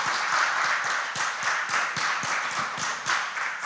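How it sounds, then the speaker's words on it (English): A round of applause at a school quiz competition, loud and close, with distinct rhythmic claps standing out over a steady wash of clapping hands. "Please give her a round of applause."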